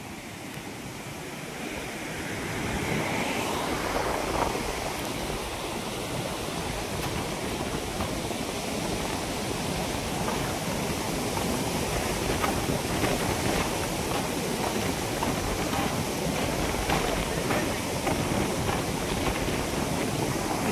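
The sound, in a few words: flooded Maan river water roaring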